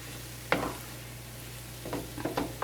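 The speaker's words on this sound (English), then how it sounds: "we're just going to kind of keep stirring it around and melting that cream cheese" Cauliflower risotto being stirred in a pan as cream cheese melts into it, soft sizzling under a few distinct scraping strokes of a utensil, one near the start and a cluster toward the end.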